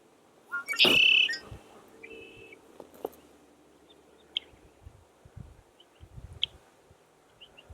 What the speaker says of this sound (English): Then the first red-winged blackbird returned and started to sing their cheerful little song.